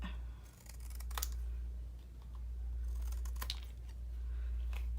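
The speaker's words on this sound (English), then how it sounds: "I'm going to trim this last piece because it's the same thickness as the other ones." Paper ephemera is trimmed with scissors in a few quiet, close snips over a low steady hum, with no talking.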